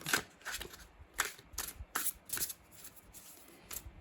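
A brand-new tarot deck is shuffled by hand in repeated riffles, each a quick crisp flutter of stiff cards followed by a short pause, close and fairly quiet.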